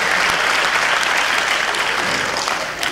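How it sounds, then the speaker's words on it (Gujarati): A folk show audience at a Gujarati lok dayro breaks into loud, dense applause, the crowd's hand claps forming a steady roar that holds for the whole stretch. "હોલસેલમાં પાડો તાળીઓ પાડી, છૂટક નહીં, બધા હોલસેલના વેપારી"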